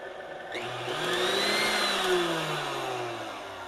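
A Kenmore stand mixer motor whirs steadily, its pitch gliding upward and back down as it runs through its speed settings, with a rough, grinding drivetrain edge.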